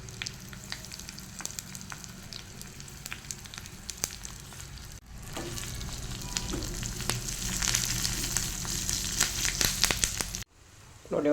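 Garlic, curry leaves and asafoetida sizzle and crackle steadily in hot oil for a Kannada-style tempering, a continuous close frying hiss with occasional pops and stirring clicks, swelling louder midway before cutting off near the end.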